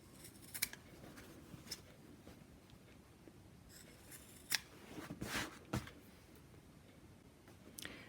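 Scissors snip off the fabric corners of a sewn face mask, giving a few faint, sharp clipping sounds scattered over a quiet background, close up.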